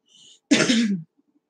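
A single close, harsh cough, brief and loud, preceded by a faint breath.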